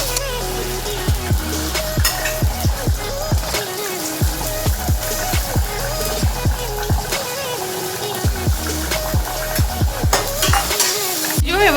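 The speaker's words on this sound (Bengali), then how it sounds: "ভাজা হচ্ছে" Loud, steady sizzle of ginger, onion, garlic and chili frying in hot oil, with a rhythmic series of stirring scrapes against the pan throughout.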